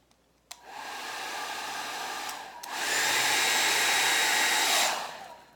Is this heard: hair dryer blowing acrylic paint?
yes